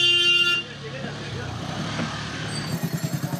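Busy Old Delhi street traffic with scooters, passersby and cars weaving through, a steady roar of engines and honking, with a brief horn tone at the start and voices talking throughout.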